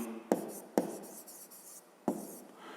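A pen or pencil scratches on paper in short handwritten strokes, with three sharper taps between bursts of faint scratching, quiet and close.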